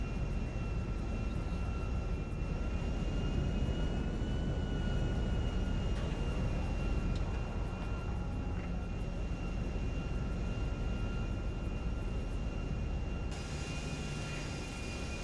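A low-class airliner in Grand Theft Auto V is in flight, its engines a steady, loud drone with a constant whine layered over broadband cabin rumble throughout, and no talk.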